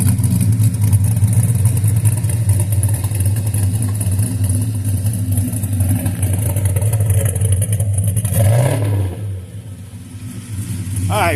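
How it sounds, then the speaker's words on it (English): A 1969 Chevrolet Chevelle engine rumbles loud and steady at close range, a deep idle that briefly revs and dips near the end, with a voice talking over it. "Listen to that thing rumble."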